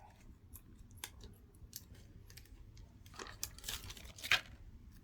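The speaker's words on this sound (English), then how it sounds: "take this little plastic paper, cut a tiny little bit, for example like this." Scissors snip a tiny piece from a thin plastic sheet with several faint, close clicks and crinkles, ending in one crisper cut.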